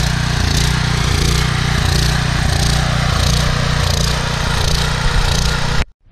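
Troy-Bilt 8000-watt generator, model 030247, with a 15 HP Briggs & Stratton engine, freshly cleaned carburetor and air filter cover refitted, runs with a loud, steady, droning hum before cutting off abruptly at the very end.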